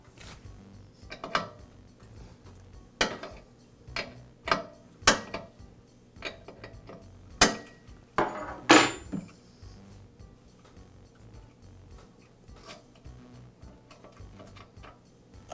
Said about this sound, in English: I'll begin by removing the old safety valve from the pressure switch.